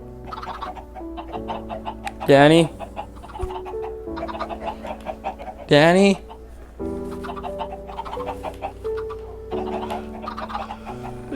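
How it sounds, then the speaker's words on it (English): Chickens in the Minecraft video game cluck in short bursts, with two louder squawking calls standing out, while a man repeatedly calls out a name over game sounds and background music. "these chickens are swarming me"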